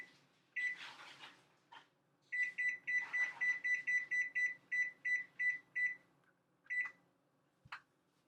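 A kitchen oven beeps as it is set to preheat to 425 degrees. There are several isolated beeps, then a quick run of about a dozen evenly spaced beeps, then a few more, all clear against a quiet room.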